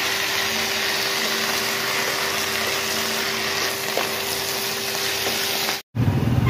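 Food frying in hot oil in a home kitchen, a steady, dense sizzle holding at even loudness for about six seconds before a sudden brief cutout, with no voices.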